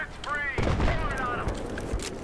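Gunfire in the video game Battlefield 3, with rapid bursts and heavy impacts in a dense mix, and someone talking over the shooting.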